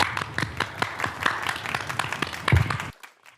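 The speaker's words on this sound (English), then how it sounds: "Jim, let's give them all a well-deserved round of applause." Applause at a Hall of Fame awards ceremony comes from a modest crowd clapping steadily for about three seconds before cutting off abruptly.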